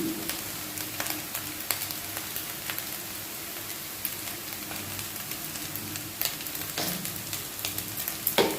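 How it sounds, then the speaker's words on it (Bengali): Egg chicken chowmein fries in a pan over a high flame, giving a constant close sizzle with scattered crackles and stirring clatters, no voices. "তাহলে এটাকে একটু ফ্রাই করে নিই গ্যাসটাকে হাই ফ্লেমে দিয়ে"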